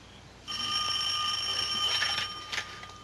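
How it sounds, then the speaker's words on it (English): A steady electric bell rings for about two seconds, then a brief second ring follows, close by with no talking. "It's the doorbell."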